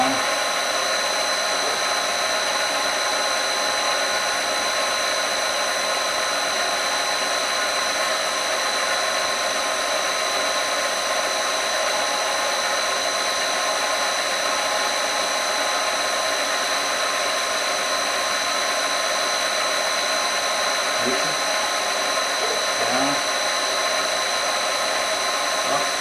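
An old power down feed machine runs with a steady, continuous mechanical whir that stays level throughout, with a couple of faint knocks near the end.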